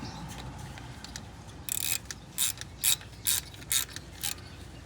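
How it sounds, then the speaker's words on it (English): A ratchet with a 10 mm socket tightens a screw while spark plugs are installed on a Toyota Tundra or Sequoia, giving a series of crisp, close clicking bursts at a steady rhythm over a low background hum. "We'll tighten that down really good. Get our 10 millimeter socket."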